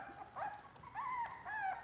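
A puppy whimpers in short, thin, rising whines, three soft cries spaced across a couple of seconds, close by and with no talk over them.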